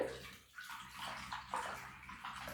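Soapy water sloshes and swirls steadily in a tub as it is stirred to wash toys, a continuous close, moderately quiet watery churning with slight surges.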